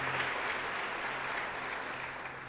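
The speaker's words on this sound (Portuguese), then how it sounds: "Você pode aplaudir a Jesus aí?" A church congregation applauding during a service, a steady, sustained wash of clapping that fills the whole stretch with no voices standing out.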